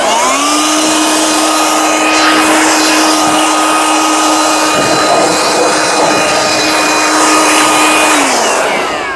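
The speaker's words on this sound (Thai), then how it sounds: "ก็จะเห็นว่าความแรงของตัวเครื่องแรงมากครับ แค่เป่าแป๊บเดียวนะครับ" An OSUKA OCJB846 cordless blower blows air in a loud, close, steady whine with a roaring rush, holding for several seconds before spinning down at the end.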